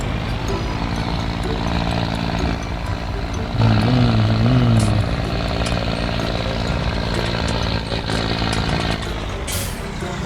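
A tractor engine in Farming Simulator 19 drones loudly and steadily at close range, rising briefly in pitch and volume as it revs before settling back to a rough, constant idle-like hum.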